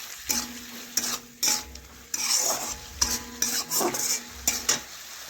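Tomatoes cooking down with mustard paste in a pan, stirred with a utensil: repeated sharp scrapes and clinks against the pan in irregular bursts over a low sizzle, close and clear, no voices.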